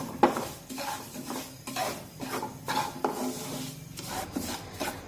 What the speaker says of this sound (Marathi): हा रवा असा हलवत राहायचा म्हणजे तो सगळीकडून भाजला जातो